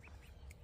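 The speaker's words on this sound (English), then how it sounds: "This is wild duck." A wild duck quacks faintly a few times outdoors, short distant calls over a low background rumble.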